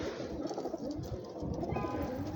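Prince Kamgar pigeons cooing steadily and close by, soft throaty coos repeating over a continuous low murmur of flock sounds with no speech.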